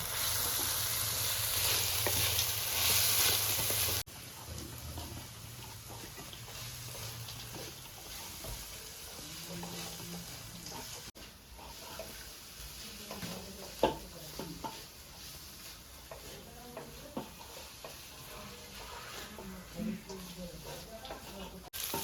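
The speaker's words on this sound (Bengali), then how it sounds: "বাদামটা একটু তেলে ভাজা হয়ে যাবে।" Peanuts and crushed chilli frying in oil, a steady soft sizzle with occasional stirring scrapes, close but quiet, with a voice talking over parts of it.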